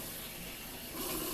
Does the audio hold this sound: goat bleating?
no